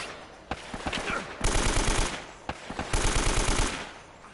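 Gunfire in the video game Uncharted, played on PS5: two long automatic bursts of rapid, loud shots separated by shorter single cracks and a brief lull, with no one speaking.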